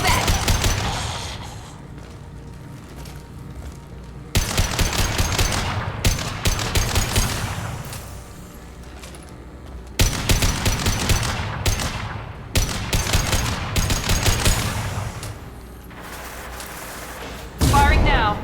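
Bursts of automatic gunfire in the video game Mass Effect 2, coming in several loud volleys separated by quieter stretches, with game voices talking between the shots.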